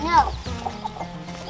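Pastured chickens cluck close by in short bursts, with people talking over and around them.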